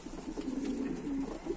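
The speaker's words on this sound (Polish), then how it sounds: "trochę te gołębie pocztowe" Soft, low cooing from racing pigeons in a home loft, a faint burbling murmur that rises and falls over a couple of seconds with no voices.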